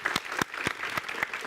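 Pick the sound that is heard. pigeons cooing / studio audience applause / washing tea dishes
studio audience applause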